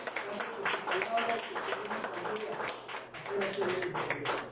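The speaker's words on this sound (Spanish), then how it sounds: "Pues denle un fuerte aplauso al Señor" A congregation applauding during a church service, rapid irregular clapping throughout, faint and somewhat distant, with a voice speaking over it.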